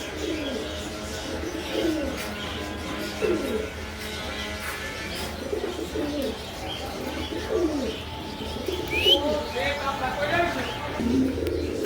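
Large pigeons at a seller's stall coo in repeated low, rolling calls, close and continuous, with someone talking over them and faint chirps in the background.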